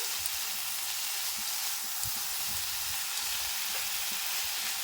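Bottle gourd (lau) sautéing in a pan for lau ghonto, a steady, soft sizzling hiss with faint scraping stirs, even and quiet throughout with no voices.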